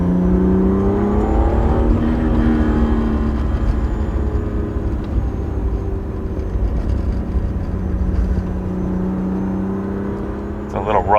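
A BMW E36 M3 in Techno Violet drives through a residential community under construction, its engine and exhaust droning steadily up close and rising and falling with throttle, with a brief sharper burst near the end.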